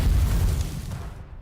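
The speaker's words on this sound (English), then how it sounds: "There's a cacophony of noise as Snow White's gunfire melds with artillery fire from off in the" Heavy, rumbling explosions and gunfire blend into a dense, continuous roar from artillery in the GODDESS OF VICTORY: NIKKE video game, loud at first and fading slightly toward the end.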